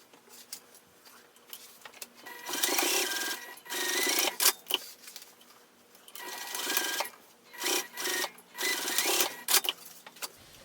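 A sewing machine bastes the side panels of a cosmetic pouch with a narrow seam, running in several separate bursts of steady whirring stitching with short pauses between them.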